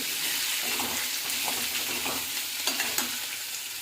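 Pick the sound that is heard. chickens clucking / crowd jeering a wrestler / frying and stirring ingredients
frying and stirring ingredients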